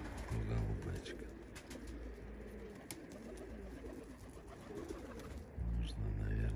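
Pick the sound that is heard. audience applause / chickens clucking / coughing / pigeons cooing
pigeons cooing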